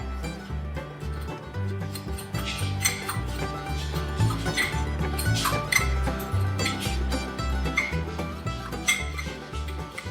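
Brown sugar and cinnamon stirred together in a bowl, heard as a steady run of light clinks and scrapes under a continuous low hum.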